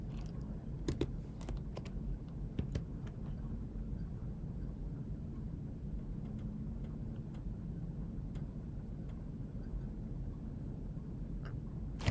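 Keys clack on a computer keyboard as a command is entered, with a few quick bursts near the start and sparse taps later over a steady low background hum.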